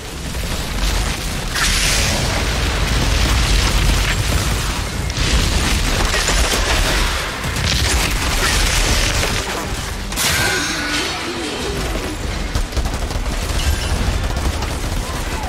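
Dense, continuous gunfire and booms in the Outriders video game, with machine guns rattling at loud, steady volume for the whole stretch and bursts of heavier impacts on top.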